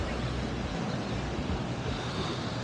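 Ocean surf at Laguna Beach, a dense continuous wash of breaking waves with some wind noise on the microphone, loud and steady throughout.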